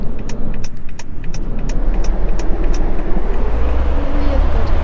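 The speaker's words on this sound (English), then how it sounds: "This is BKM eProton, which is aka known as a BMW IX." A BMW iX electric car driving, with steady road and tire rumble filling the cabin throughout, loud and continuous, while a person talks over it.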